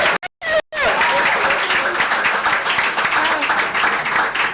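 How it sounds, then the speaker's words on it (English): A room full of people claps and applauds steadily during a Nigerian radio-TV call-in programme, loud and sustained after a few clipped bursts of sound at the start. "make una clap for mommy"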